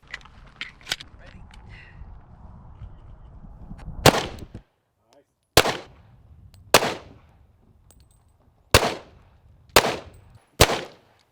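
Sharp gunshots hit an aramid fiber body armor panel at a bulletproof glass and door armor demo: six loud, separate cracks spaced about a second apart, each trailing off quickly, following a stretch of people talking.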